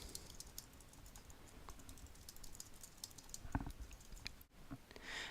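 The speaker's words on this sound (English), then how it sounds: "One way to enter comments is just to type into this box." Quiet, close computer keyboard typing, a steady stream of light key clicks over a faint room hiss, with one slightly sharper tap near the end and no voices.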